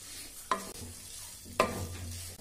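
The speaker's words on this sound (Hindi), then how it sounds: "और चम्मच अच्छे से मिक्स करते हैं।" A spoon stirs fried soybean chunks in a frying curry, making two distinct scraping clacks about a second apart over a quiet, steady sizzle.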